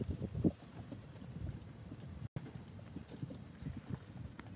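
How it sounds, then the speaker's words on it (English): Wind rushing steadily across an outdoor microphone at a harbor at sunset, a low continuous buffeting with a brief dropout midway. "Yeah, it is pretty windy down here today"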